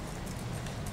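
Hooves of a horse being ridden, a quick rhythmic clip-clop of several footfalls, moderately faint and steady.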